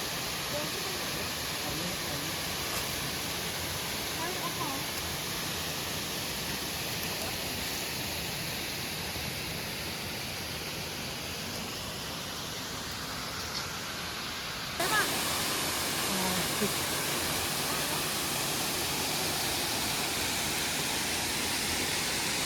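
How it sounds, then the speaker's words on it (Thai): Waterfall in Nan province, Thailand, a steady broadband rushing roar of falling water that jumps suddenly louder partway through as if moving closer; speech is faintly present. "ถึงน้ำตกแล้วจ้า"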